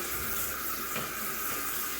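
Water runs steadily from a tap while a shower wall is rinsed with a wet rag, a continuous broadband hiss of flowing and splashing water with no pauses and no voices.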